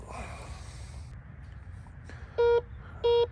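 Two short, steady mid-pitched beeps from an OMMO MD-7011 metal detector sound a moment apart over low background hiss, signaling a target.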